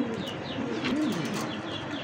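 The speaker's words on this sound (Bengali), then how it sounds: "এটা কিং কবুতর, বোল্টার কিং" Bolter king pigeons coo softly in a loft, a short low warbling coo rising and falling over steady background noise, with faint wing rustle and no talking.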